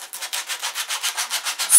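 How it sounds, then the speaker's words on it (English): A plastic gift-card guitar pick is rubbed against sandpaper in quick, steady back-and-forth strokes, about seven close, even scrapes in a row. "You can either use a knife to get it off or just use the sandpaper."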